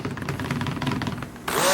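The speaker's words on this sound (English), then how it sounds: "Going to do a quick burst." A stick blender gives a quick burst while mixing thick cinnamon soap batter, a steady close motor whir that jumps louder and brighter just before the short clip ends.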